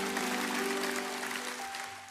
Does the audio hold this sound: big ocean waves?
no